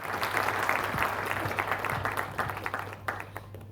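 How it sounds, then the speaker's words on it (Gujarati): Applause from the crowd at a Gujarati community family gathering in Ahmedabad, a lively burst of many hands clapping that stays strong, then thins into scattered, uneven claps and fades near the end, with a low hum underneath. "ફરીથી તાળીઓ થઈ જાય એમની માટે."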